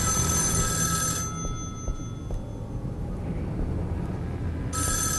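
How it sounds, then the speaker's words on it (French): An old 1980s-style telephone bell rings in a video game, a loud metallic ring lasting about a second, then a quiet pause, then a second ring starting right at the end. "Téléphone des années 80."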